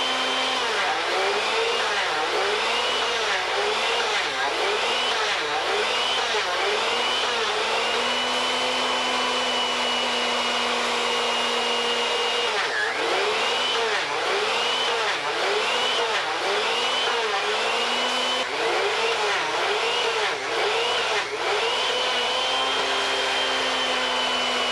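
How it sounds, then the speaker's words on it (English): A wood router cuts a series of rosettes to a set depth in a shop, its steady motor whine dipping and rising in repeated cycles as the bit engages and disengages the workpiece, loud and close throughout. "I wouldn't turn the router off"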